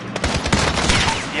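Loud, close bursts of rapid automatic gunfire in a video game, dense overlapping shots hammering without pause, with a voice briefly audible underneath.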